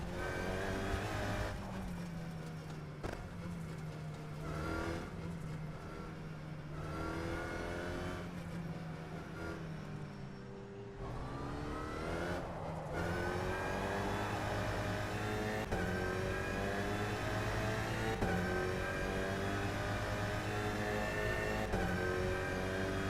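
A race car in the rFactor 2 racing game, its engine revving steadily through rising and falling gear pitches, loud and continuous throughout, with a brief dip in the middle before climbing again.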